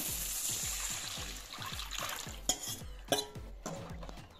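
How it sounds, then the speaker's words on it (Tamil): A dissolved spice mixture is stirred and poured into a pot of egg curry, giving a continuous wet sloshing with rhythmic scraping strokes, followed by a few sharper clinks of utensil against the pot, close and moderately loud. "இப்போ வந்து கரைச்சிட்டு ஊற்றிடலாம்"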